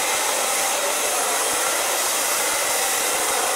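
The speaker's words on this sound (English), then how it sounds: "So now it's time to blow dry the hair." A hair dryer blows hair dry, a loud, steady, close-up whooshing roar that holds constant throughout with no speech.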